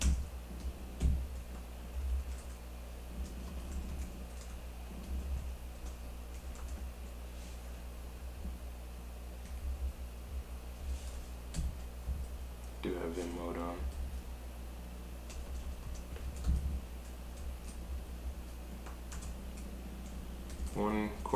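Faint keyboard clicks from someone typing code, in light irregular bursts under a person talking in a quiet room.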